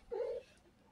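A cat gives one short, soft meow up close, brief and alone against quiet background.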